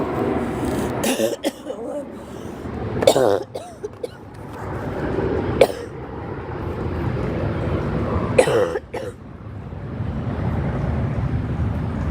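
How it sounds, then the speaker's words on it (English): Several sharp coughs break out in separate bursts, close by, with faint background noise between them. "when I cough, it feels like my whole chest is on fire"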